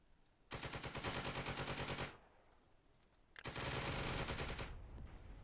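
Machine guns in a video game rattle out two long continuous bursts, loud and rapid, separated by a brief lull.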